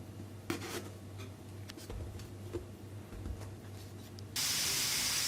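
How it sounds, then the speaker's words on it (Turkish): Pricked eggplants char in a Teflon pan over high heat, with a steady sizzling hiss, scattered crackles and small pops, and a louder, brighter hiss rising abruptly near the end. "Daha sonra bunları ocakta yüksek ateşte teflon tavanın içerisinde közleyeceğim."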